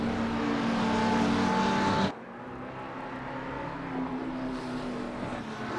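Race cars in a wet-weather Gran Turismo race, with a McLaren among them, roar at high revs close by. The engine note drops sharply partway through, then a steadier, lower drone continues.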